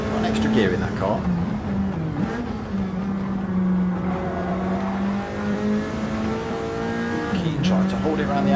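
Race cars at Watkins Glen, engines droning at a steady high pitch with gear changes and revving swells, loud and continuous beneath a commentator talking throughout.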